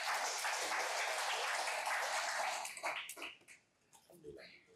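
Seminar audience applauds in a dense burst of clapping that fades after about three seconds, leaving scattered claps and faint murmuring.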